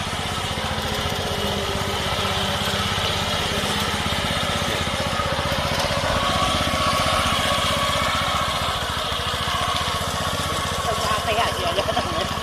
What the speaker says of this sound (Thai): ตัดได้เลย ตัดหญ้าได้เลย